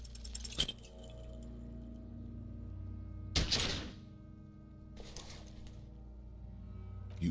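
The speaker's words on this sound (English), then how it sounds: "You hear an explosion within the weapon in your hands" A pistol misfiring in the video game Disco Elysium: a single sharp burst with a short crackling tail stands out mid-clip, framed by quieter clicks and low ambient hum.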